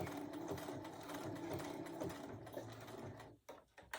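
A sewing machine stitches a fabric mug rug with a steady, close mechanical whir and rapid needle rhythm, then slows and stops near the end with a few brief clunks.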